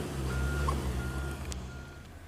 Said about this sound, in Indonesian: Kita jeda dulu sebentar, suara mobil berisik ya.